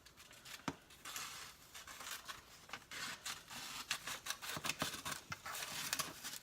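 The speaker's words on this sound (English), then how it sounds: "I'm just going to cut like a kind of like swirly shape into it." Scissors cutting a swirly shape into material for a garbage can, quiet close snipping and rustling scrapes in an irregular run, with no talk.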